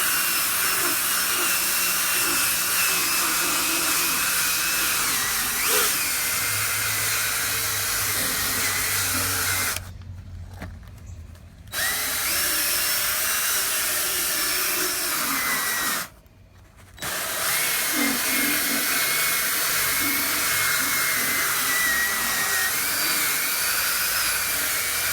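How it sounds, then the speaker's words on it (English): A steady, loud drill whir runs continuously while scrubbing a stained Ford Crown Victoria car seat, cutting out twice briefly before resuming, with faint scrubbing texture underneath. "So here we go with the drill."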